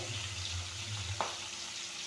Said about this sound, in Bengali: লাল করে ভেজে নিতে হবে মাছের মাথাটা